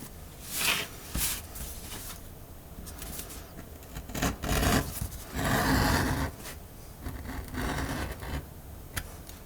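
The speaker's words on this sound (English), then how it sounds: "When beveling the inside edges of the holster openings, you want to start and stop your bevel at the stitch lines" A beveler working the inside edges of leather holster openings for a Springfield XD-M 4.5" 10mm, producing irregular scraping and rasping strokes up close, with quiet handling noises between them.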